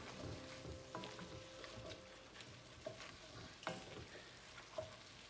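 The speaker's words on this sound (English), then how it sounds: "So I'm just going to give that a stir again." Sliced onions with a teaspoon of sugar caramelizing in a pot for French onion soup, stirred with a spoon: soft, quiet sizzle with scattered scraping and a few light knocks against the pot.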